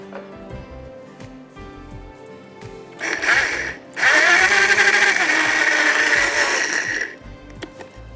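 Kitchen blender grinding almonds with milk for a blancmange dessert, a loud steady whirring roar that starts briefly, pauses, then runs continuously for about three seconds before cutting off, with quiet kitchen sounds around it.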